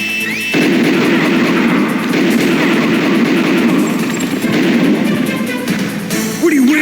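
Sustained heavy gunfire in the video game Metal Gear Solid: a loud, dense, continuous roar of shooting that starts abruptly and runs for several seconds before cutting off, with a brief voice at the end.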